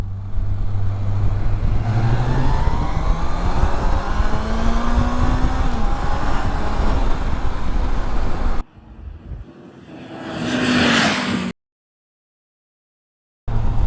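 A Yamaha FJR 1300 motorcycle accelerates at full throttle in second gear from about 3000 rpm. A loud engine note climbs steadily in pitch for roughly eight seconds, then cuts off abruptly, followed by a short burst of wind noise.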